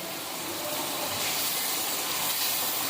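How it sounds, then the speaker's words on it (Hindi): Spicy masala goat liver frying on high heat, a steady loud hiss of sizzling that fills the whole moment without pause or talk. "तेज़ आंच में इसकी तकरीबन 1 से 2 मिनट के लिए भुनाई करेंगे।"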